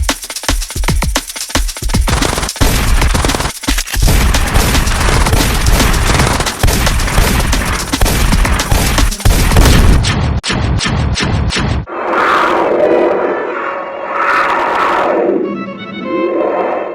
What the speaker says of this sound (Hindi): जवाबी फायरिंग शुरू करो।